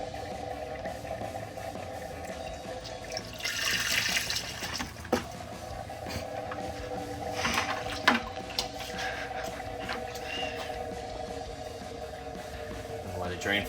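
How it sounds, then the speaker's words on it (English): Coolant drains from a Jeep Wrangler radiator during a CSF replacement radiator install, a steady trickle and splash of liquid running into a pan, with a few clanks from nearby work along the way. "You can hear it draining into places."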